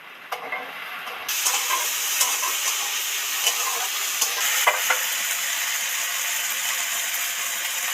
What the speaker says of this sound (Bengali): কচু আলু টমেটো সব একসাথে তেলের মধ্যে দিয়ে দিচ্ছি একটু ডিপ ফ্রাই করে ভেজে নেব